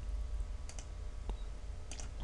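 A computer mouse clicks the Create button while setting up a virtual machine in VirtualBox, giving a few quick, faint clicks over a steady low hum, with no voice.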